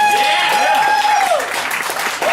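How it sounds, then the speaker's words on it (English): Audience applause at a comedy show, steady clapping under a voice talking, with a sliding whistle-like tone over the top. "I'll take any applause I can get at this point"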